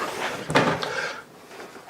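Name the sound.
storage cupboard door opened in a travel trailer bathroom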